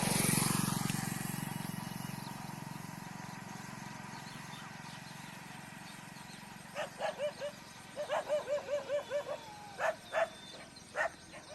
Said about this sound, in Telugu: చాలా గుంపులుగా వచ్చాయి కుక్కలు